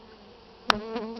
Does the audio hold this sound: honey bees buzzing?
yes